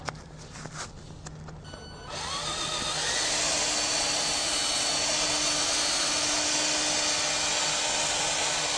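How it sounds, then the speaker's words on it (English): A drill spinning a buffing pad loaded with polishing compound on a car headlight as part of a 3M headlight restoration kit, starting after a couple of seconds and then running as a steady, loud, continuous whir close by. "Throw on a buffing pad,"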